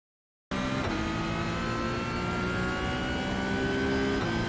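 A Porsche 992 GT3 Cup in iRacing at full throttle on Phillip Island, a loud, steady high-revving engine roar that kicks in suddenly and holds flat out throughout.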